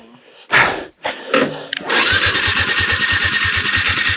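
Brief voices, then a motorcycle engine cranks and catches, settling into a steady, close, rhythmic idle that keeps running.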